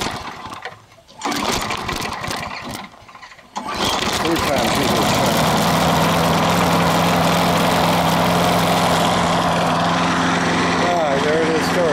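A Craftsman lawn mower engine cranks with a couple of short bursts, then catches and runs steadily at a loud, close, continuous drone.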